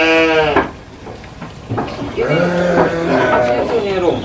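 Goats bleating outdoors near grass, a few wavering cries close by, one at the start and more toward the end, mixed with people talking.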